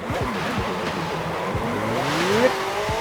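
A McLaren 12C with an aftermarket exhaust revs and roars in Forza Horizon 5, with rising pitch sweeps and tire noise, loud and close, continuous throughout.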